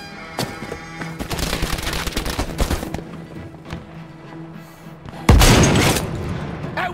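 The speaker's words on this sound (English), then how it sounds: "Fire cannon, use it!" A cannon fires amid gunfire in Battlefield V: rattling small-arms bursts and heavy blasts, then one loud close boom with a long rumbling tail near the end.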